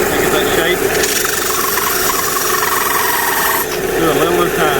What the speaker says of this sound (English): Basically, that's all you do is sand it down.